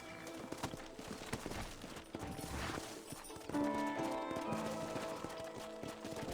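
Horses clip-clop at a trot in the Western video game Red Dead Redemption, steady hoofbeats running under layered game music and ambient sound, with faint gunfire-like bursts mixed in.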